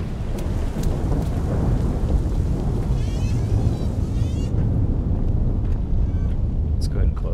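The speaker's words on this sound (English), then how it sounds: "Let's go ahead and close that so we're not listening to thunder all the time." A thunderstorm rumbles with steady rain in the game Observer: System Redux, a continuous loud roar of thunder and downpour with speech mixed in.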